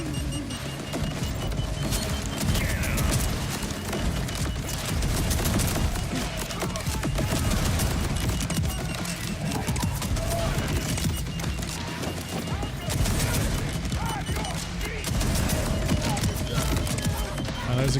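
Grenade explosions in the Borderlands shooter game, a dense continuous barrage of cracking blasts and debris bursts, loud and steady throughout, with chaotic combat noise layered underneath.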